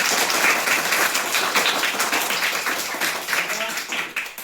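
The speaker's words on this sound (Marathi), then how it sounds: "टाळ्या सगळे जोरदार" Villagers clap together for the women polling staff at a polling station, a dense and sustained round of applause that stays loud and tapers slightly toward the end.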